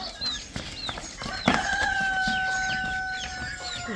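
Chickens cluck steadily at a Sindhi cattle market farm, with a rooster crowing and other birds chirping close by; a brief sharp knock stands out early, and no one speaks.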